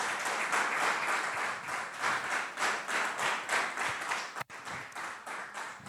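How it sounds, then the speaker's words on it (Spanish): A church congregation applauding together during a sermon, a dense, steady wash of many hands clapping close and loud, with a brief dip near the end. "Dale un aplauso al Señor."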